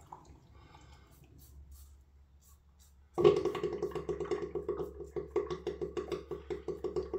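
A Tatara Muramasa razor rinsed under a running tap, water flow starting suddenly after quiet and splashing in quick, rhythmic pulses, close and moderately loud.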